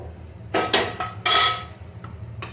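Fried gobindobhog rice goes into a pot and is stirred, making a few sharp metallic clanks and scraping bursts of a spoon against the vessel, close and loud between quiet gaps.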